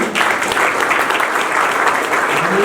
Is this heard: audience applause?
yes